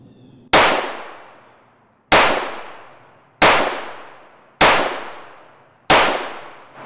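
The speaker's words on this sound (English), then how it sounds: "first gun, gonna be the Smith & Wesson. We're going to start with 115 grain Tula ammo." Five sharp pistol shots from a Smith & Wesson firing 115 grain Tula ammunition, spaced evenly about a second apart, each a loud crack with a ringing decay and no talk between them.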